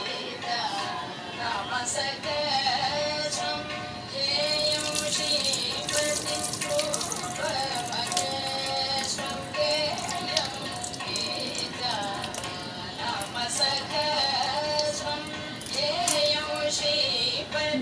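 Tap water runs steadily into a kitchen sink while ridge gourd is washed, a continuous splashing rush with people talking over it.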